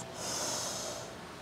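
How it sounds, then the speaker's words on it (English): A steady, soft inhale through the nose during a yoga flow into Downward Facing Dog, close and quiet, one continuous breath lasting about a second with airy hiss, no talking. "Inhale through the nose."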